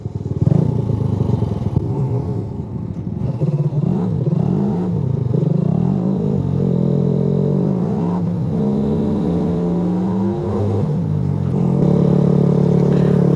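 A Suzuki GN125 motorcycle rides along a road, its small single-cylinder engine droning steadily and loudly up close with shifting revs and wind rumble throughout.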